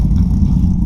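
Close, loud low rumble of a C5 Corvette engine idling, a steady throbbing drone over a brief moment with no voices.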